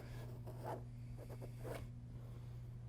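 A pencil scratches into layers of paint on an abstract painting, making a few short, faint scratchy strokes over a low steady hum.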